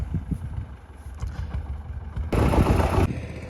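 A fully homemade tractor runs its engine with a low, rumbling chug that swells into a louder, harsher burst for under a second before settling back to the steady idle.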